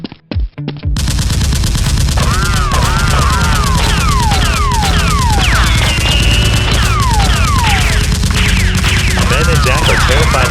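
Rapid bursts of gunfire from toy Nerf blasters in a staged action fight, loud and continuous after a brief start, with whizzing, zipping tones layered over the dense firing.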